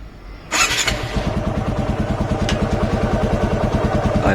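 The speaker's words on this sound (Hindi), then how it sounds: "तो एक बार मैं आपको गाड़ी स्टार्ट करके दिखाता हूँ।" A TVS Apache RTR motorcycle cold-starts abruptly after a quiet moment, its engine catching at once and settling into a steady, close, rhythmic idle with no one speaking.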